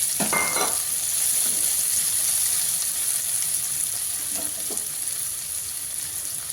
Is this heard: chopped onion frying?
yes